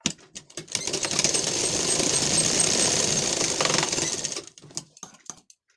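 A sewing machine runs in one steady rapid burst while stitching a double seam on a lined blouse, preceded and followed by short clicks and handling of the fabric; close and fairly loud with no speech.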